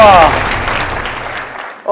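A studio audience at the Thai Iron Chef cooking competition claps in a brief burst that fades over two seconds, with a voice briefly heard over the start.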